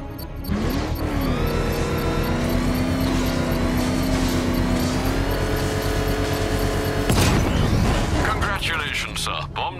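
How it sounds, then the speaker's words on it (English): A controlled bomb explosion in the video game Batman: Arkham Knight, set off with a vehicle's power winch, bursts out as a loud, sharp boom over a steady engine drone and game music, then rumbles away. "I can use the power winch to trigger a controlled explosion."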